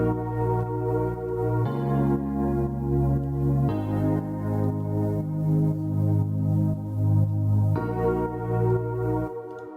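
Deep house pads from Nexus layered with other instruments as one group, a sustained floating chordal bed that shifts chords every couple of seconds, steady and full without any voice.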